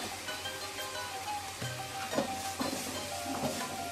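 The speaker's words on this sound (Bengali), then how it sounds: "মশলার সাথে ভালো করে নেড়ে চেড়ে পেঁয়াজটা আমি ভালো করে ভেজে নেব তেলের সাথে" Onion paste with ginger paste sizzling in hot oil with spices, a soft steady frying hiss with occasional stirring clinks and scrapes of a utensil in the pan, fairly quiet and close.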